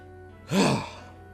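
A single short, breathy yawn, close and quiet, swells and fades within about half a second against a faint steady background hum, with no words spoken.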